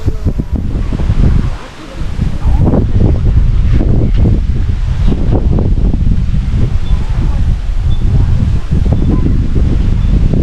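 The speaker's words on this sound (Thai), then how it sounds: "ลมแรงมาก" Strong wind buffets the microphone on a mountaintop overlooking the Pa Sak River in Lopburi, a loud, continuous roaring gust with rustling bursts and a brief lull near the start.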